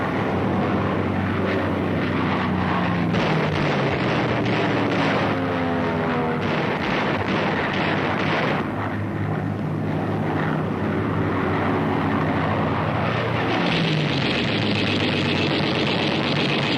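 American P-40 propeller fighter planes in the WWII Pacific air war roar loudly and continuously, their engine pitch rising and falling in sweeping passes, with no voices heard.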